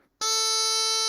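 A bagpipe practice chanter sounds a single steady reedy note for about a second, bright and buzzy, starting abruptly and held at one pitch.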